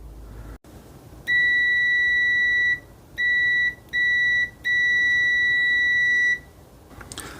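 Continuity test beeps from a ZOYI ZT-R02 thermal multimeter at maximum volume, a loud steady high-pitched tone sounding in four bursts of uneven length, alone with no talk.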